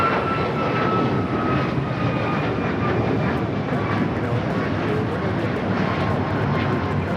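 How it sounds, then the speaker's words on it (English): A United Airlines Boeing 737 MAX 9 departing Los Angeles International Airport for Orlando, its engines roaring loud and steady at takeoff power, a broad continuous rush with thin whining tones. "This is United Airlines 1621 taking off to Orlando, Florida on the MAX 9"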